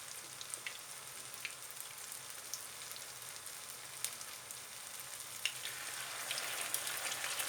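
Spoonfuls of potato köfte batter frying in hot oil, a faint, even crackling sizzle with scattered small pops that grows slightly louder toward the end, no voices.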